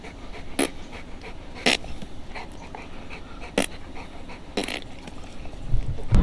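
A dog pants steadily and close by at a campground, quick rhythmic breaths with a few louder sharp huffs, and faint shuffling underneath.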